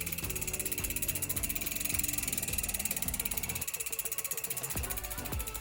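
Industry Nine Torch hub freewheel on a mountain bike, a fast, even ratchet buzz of tightly packed clicks heard up close and continuing without a break.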